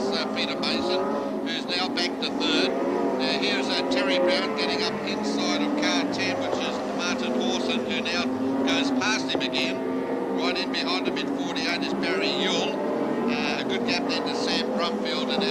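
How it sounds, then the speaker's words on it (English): Modified sedan race cars lapping the Murray Bridge circuit in 1997, engines droning steadily from mid-distance under continuous race commentary. "Here they go to complete another lap, and the leader doing it pretty well is Paul Sheen."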